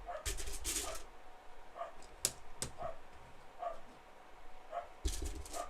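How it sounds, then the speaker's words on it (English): A dog barks in the background behind a live-streamed brick-building session, giving scattered short barks, a few sharper ones, well back in the mix and fairly faint. "Excuse the dog barking in the background."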